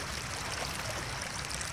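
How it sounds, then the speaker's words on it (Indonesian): Water rushing fast over rocks in a rainforest stream, a dense continuous broadband wash, close and steady with no speech. "itu adalah air yang mengalir melalui bebatuan"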